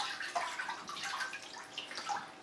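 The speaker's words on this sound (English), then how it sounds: "So you want to wring out the water" Wet sheet wrung out over a tub of cold water, steady trickling and splashing of water dripping back into the tub, close and moderately soft.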